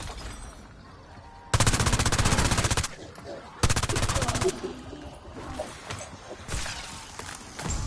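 Automatic gunfire from shooting zombies in Call of Duty, set in Liberty Falls, with two loud sustained bursts of rapid shots and scattered game sounds between them, no talking heard.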